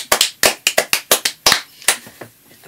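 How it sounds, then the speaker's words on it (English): A small studio audience at a talk show gives a brief round of clapping, with sharp, fairly sparse hand claps close by that thin out and fade toward the end, and no voices. "A round of applause to our studio audience."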